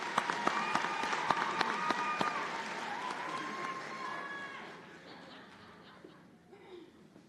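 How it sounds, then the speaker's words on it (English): A crowd applauds graduates at a nursing white coat ceremony, a dense, steady patter with a few crisp claps up front and faint voices mixed in, gradually tapering off toward the end. "One more round of applause for them."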